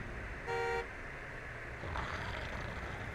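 Car horn honking in the Jurassic Park video game, a single sustained toot of about a third of a second over a steady engine hum, with no talk.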